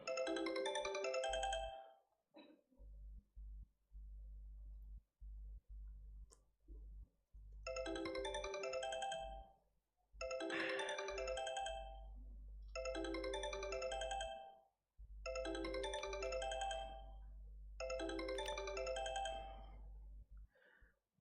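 Mobile phone ringtone for an incoming call, a melodic chiming pattern repeating in six bursts over a low steady hum, clear and without talk.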